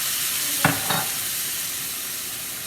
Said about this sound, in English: we'll stir that in, mix that in, and let that simmer for a minute